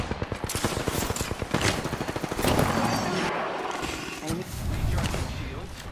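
Rapid automatic gunfire in a shooter video game rattles in fast bursts, loud and close, with a voice talking over parts of it.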